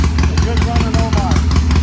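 An old Triumph motorcycle engine kick-started at a motorcycle shop, running steadily with a low idling rumble throughout, loud and close, with voices talking over it.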